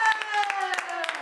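A few quick hand claps sound in a lively group celebrating a win, mixed in with excited voices and a sustained musical tone.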